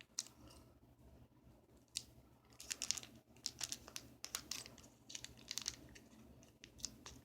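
Thin plastic wrapping on a magazine being pinched and torn into a small hole, heard as close crinkling with sharp crackling bursts and snips, quiet and continuous.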